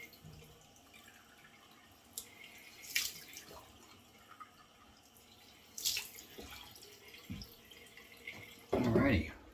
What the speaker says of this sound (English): let me just run some cold water over the face and get some alum on that